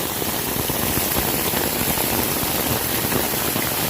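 Heavy rain from Tropical Storm Fred pours down in a flooded residential yard, heard from under an umbrella as a loud, dense, unbroken hiss of water with no talking.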